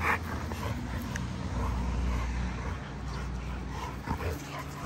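XL pitbull puppies and adults scuffle in a brawl, with dog barks, yips and whimpers over a busy, continuous background of noise and movement.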